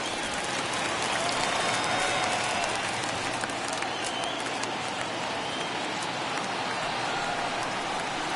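A huge stadium crowd of over 39,000 in the video game MLB The Show 21 roars steadily, a dense continuous wash of cheering and applause with no breaks.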